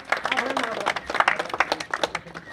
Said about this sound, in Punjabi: ਤਾੜੀਆਂ ਮਾਰੋ ਸਾਰਿਆਂ ਨੇ